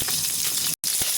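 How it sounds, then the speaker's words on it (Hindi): Cauliflower fries in hot oil over a medium-high flame, a close, steady hiss and sizzle with a few small pops, cut by a brief silent gap near the end. "तेल गर्म होने के बाद सबसे पहले गोभी डाल देंगे। इसको हल्का सा भून लेंगे"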